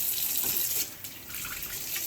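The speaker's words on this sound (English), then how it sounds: "I'm just going to go ahead and fill it up with cold water" Cold tap water runs steadily into a sink as it fills for rinsing cleaning cloths, a broad continuous hiss with a brief dip partway through, close and alone.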